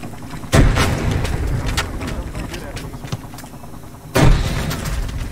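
Frag grenades exploding in a military shooter game, two sharp loud blasts spaced a few seconds apart, each followed by rumbling, with scattered gunfire and voices talking in between.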